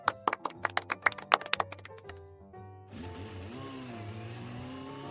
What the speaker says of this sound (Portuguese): Só um minutinho que passou uma moto aqui, peraí. A moto tá fazendo zerinho na frente da casa da Ana.